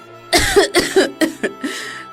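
A sick woman coughs hoarsely in a string of five or six short, close bursts with a raspy edge, no talking around them.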